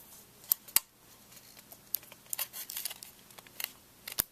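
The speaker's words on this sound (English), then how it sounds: "As you can see, I'm just reapplying my sticker." Sticker being pressed back onto a MacBook Pro drive during an HDD-to-SSD upgrade, heard as quiet crinkling and a few sharp close clicks and taps scattered over about four seconds.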